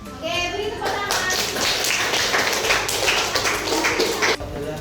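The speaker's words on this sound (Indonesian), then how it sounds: "Oke, beri tepuk tangan." Students in a classroom at an Islamic junior high school clap together in a dense, lively burst lasting a few seconds, with children's voices mixed in, before the clapping stops abruptly.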